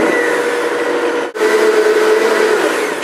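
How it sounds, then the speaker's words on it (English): A Blendtec blender whirs loudly through tomato sauce, a steady high-speed motor roar with a brief dip as the speed changes, then continuing at full power. "So this Blendtec gets things really, really blended up nicely."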